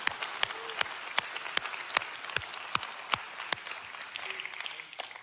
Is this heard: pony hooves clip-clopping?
no